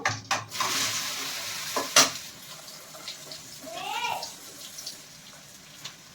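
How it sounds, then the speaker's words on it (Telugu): Chopped okra frying in a pan at home, with a crackling sizzle and the scrape of a spatula stirring through it, plus a brief clank and a short whistle-like tone partway through. "బెండకాయ ఫ్రై అయితే చేస్తున్నాను"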